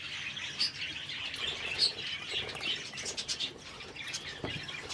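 Farmed birds kept in a basement chirp and tweet in quick, overlapping calls, with a few brief flutters, moderately close and fairly quiet.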